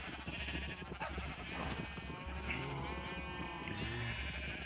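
Sheep in Minecraft bleat several times over game background sounds, the wavering calls repeating at moderate loudness.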